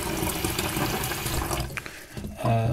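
Water running from a tap into a coffee machine's water tank, a steady splashing stream that briefly drops off and then returns with a rising gurgle as the tank fills.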